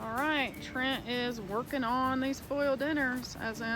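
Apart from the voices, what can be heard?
None of the usual background noises is heard.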